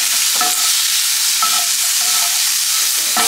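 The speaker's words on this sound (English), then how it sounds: "I'm just going to keep stirring this until it's all nice and soft." Vegetables fry in a pan with oregano, a steady loud sizzle broken by repeated scraping strokes of a spoon stirring, with no voices.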